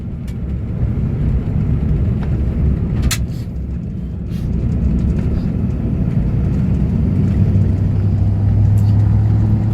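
A 2003 Toyota Hilux 4x4 pickup with a swapped Lexus 3UZ-FE 4.3 V8 cruising in fifth gear, a steady loud low engine drone and road rumble from inside the cab that swells slightly as it begins to accelerate.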